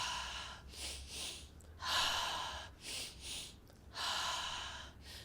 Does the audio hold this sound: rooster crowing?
no